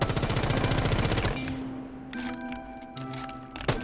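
Ash's rifle in Rainbow Six Siege fires a rapid automatic burst, then breaks into scattered shots, clinks and pings, with one sharp crack near the end; loud and close, with no talking.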